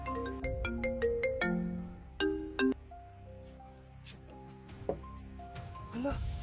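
A mobile phone ringtone plays a bright melodic sequence of tones in a home, with voices speaking over and around it.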